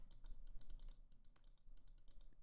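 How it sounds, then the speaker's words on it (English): A deck of cards is shuffled during a tabletop card game, giving a rapid burst of crisp, close riffling clicks in quick uneven clusters and no speech. "Shuffle."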